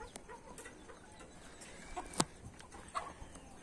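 A strong young chicken on a small farm gives soft, scattered clucks at a moderate distance, with faint background noise and no talking.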